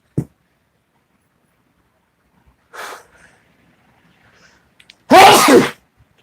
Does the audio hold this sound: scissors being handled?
no